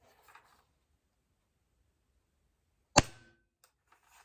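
A Crosman Challenger air rifle dry-fired with no pellet gives one sharp, fairly loud pop of air from the muzzle, alone in a quiet room, followed by a few faint clicks.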